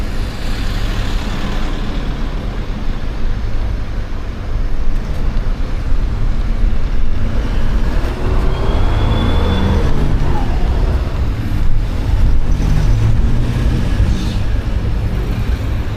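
Loud, continuous road traffic with cars, trucks and buses, dense engine rumble and passing vehicles heard close up in congested traffic, with no voices over it.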